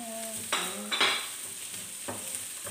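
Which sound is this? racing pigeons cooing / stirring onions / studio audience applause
stirring onions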